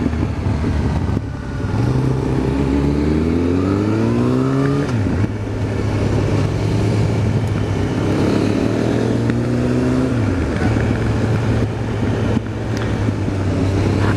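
A car engine drives uphill on a road near Lake Garda, loud and close, rising in pitch through the gears with a few clear shifts and no talking.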